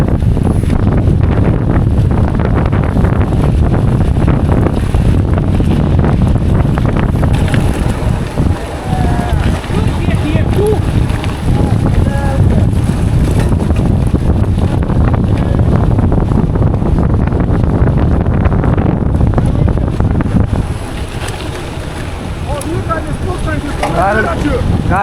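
A strong headwind buffets the microphone as a cyclist rides near the end of an 81 km gravel race at Raudonė Castle, producing constant loud roaring and rumbling gusts with faint voices mixed in.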